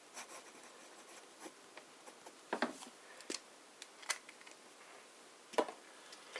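Medium-nib fountain pen writing on paper with Sailor Jentle Blue ink, a faint, quiet scratching made of short strokes and scattered ticks, with a few brief, sharper scrapes.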